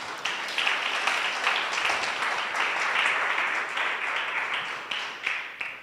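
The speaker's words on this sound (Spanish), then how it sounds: "Dale un aplauso al Señor." A church congregation breaks into steady applause during a sermon, many hands clapping at an even level for several seconds with no voices on top.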